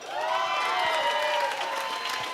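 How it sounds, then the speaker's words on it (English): Steady applause from a fundraiser crowd fills a short stretch, even and moderately loud throughout with no voices over it. "Let's give that a round of applause."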